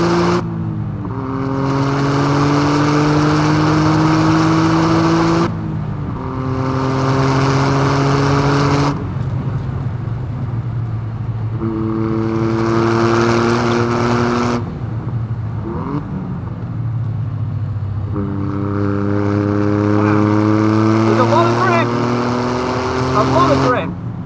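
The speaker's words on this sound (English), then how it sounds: "I love the sound from the exhaust on the down change." A modified Toyota GR Yaris lapping the Nürburgring, its exhaust loud and close as the engine climbs through long revving pulls broken by sharp drops and blips on the downshifts.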